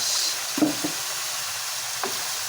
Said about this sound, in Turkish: kıymamız suyunu çekti ve iyicene kavruldu